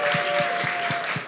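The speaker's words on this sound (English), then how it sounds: "Round of applause." Applause from a conference audience in a room on a Saturday evening, a steady wash of clapping that fills the clip with soft low thumps at regular intervals and a faint steady tone running underneath.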